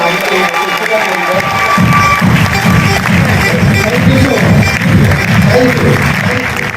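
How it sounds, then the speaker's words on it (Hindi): Loud clapping and cheering from an audience at an award ceremony during a motivational speech, dense rhythmic hand claps with shouts rising over a crowd roar, close and sustained throughout. "आप सब अपने लिए एक जोरदार तालियां बजाइए।"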